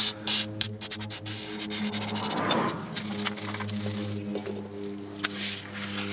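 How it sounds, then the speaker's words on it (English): Rubbing and scrubbing on a brake caliper of a 2002 Nissan Maxima, a steady close scraping and wiping texture with a few sharp clinks at the start, over a low hum in the background. "remember to clean the caliper off as well"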